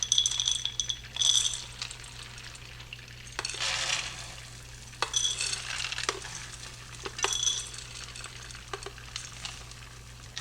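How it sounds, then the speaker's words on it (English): Chopped pecans tipped into simmering butter in a pan, with a soft steady sizzle under intermittent rattling and scraping as the nuts are stirred, close and without talk. "I'm going to add 3 cups into the butter."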